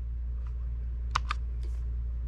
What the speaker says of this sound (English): If you hit F4 on the keyboard,